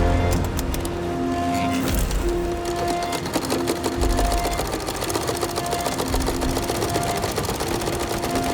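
A sewing machine runs continuously at a fast, even mechanical rhythm, fairly close, with a dense rattling clatter and no talking.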